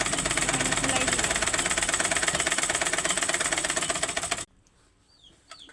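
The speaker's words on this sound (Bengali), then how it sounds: "এই যে রাবার এইভাবে দিয়ে আপনারা সেলাই করবেন" A sewing machine stitching rubber runs in a steady, fast mechanical rhythm for about four seconds, loud and close, then stops abruptly, leaving faint handling noises.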